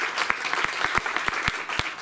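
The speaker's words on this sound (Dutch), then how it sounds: "Groot applaus voor Theo Wieringa, 16 jaar." Crowd applause at the start of a half marathon, a short burst of scattered, uneven clapping close by with no voices over it.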